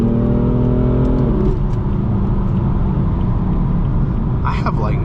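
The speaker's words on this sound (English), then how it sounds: "I don't think this car has ever spun the tires in third gear" A BMW M4's engine revs hard and steadily as its tires spin and slip for grip in a deep rut, a loud continuous droning roar with a rising whine near the start and brief squeals near the end.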